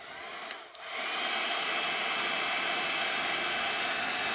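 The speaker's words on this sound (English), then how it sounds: "I'm just going to go in and heat up the petals" Heat tool blowing on embossing powder on vellum petals, a brief dip after it switches on, then a steady loud whooshing hum that carries on unbroken.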